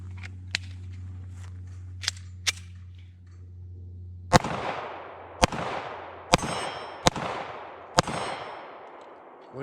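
A Sig P365-XMACRO pistol fitted with an XL slide fires five loud, sharp shots at uneven intervals, each ringing out with a short echoing tail, after a few fainter metallic clicks and clanks.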